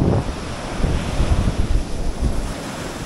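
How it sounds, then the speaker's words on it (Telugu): Ocean surf rolls in on Alleppey Beach, a steady loud wash of breaking waves mixed with heavy wind buffeting the microphone, with no voices present. "ఇది అల్పై బీచ్."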